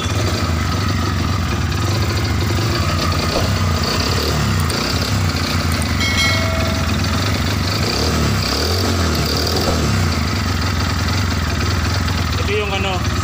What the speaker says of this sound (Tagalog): Ito yung sinasabi nilang palyado. Yung parang kanina na tag-tag-tag.